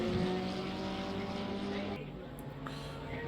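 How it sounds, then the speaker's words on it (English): McLaren and Porsche race cars in a racing video game roar down the main straight at Barcelona, a sustained high engine whine that shifts pitch partway through, under a commentator's talk. "let's see what we can, what that McLaren can do down the main straight against the Porsche."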